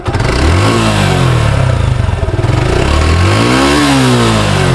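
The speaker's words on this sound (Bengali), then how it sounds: "আমি ইঞ্জিনটা একটু থ্রোটল বাড়িয়ে আপনাদেরকে সাউন্ডটা দেখাই" A Suzuki Gixxer 2023 motorcycle engine revs up and down close by, its loud throttle blips rising and falling over a steady running rumble, with no talk.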